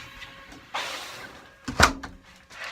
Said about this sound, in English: I'm gonna go ahead and shut this door so you can know how loud this is right here